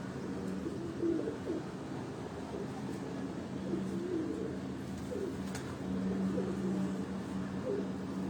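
Pigeons on a house rooftop in Chak Beli Road, Rawat, giving soft repeated coos at a moderate distance over a faint background hum, with occasional quiet voices.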